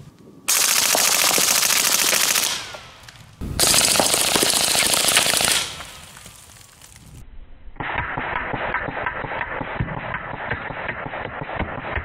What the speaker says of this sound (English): I got the bowling ball on the ground now, so I feel a little better about shooting it.